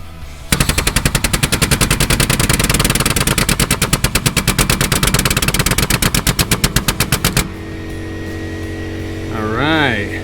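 A Harbor Freight 12-ton pneumatic hydraulic jack lifting a 40-foot toy hauler pumps in a rapid, loud machine-gun-like rattle for about seven seconds, then cuts off to a lingering hum with a faint voice.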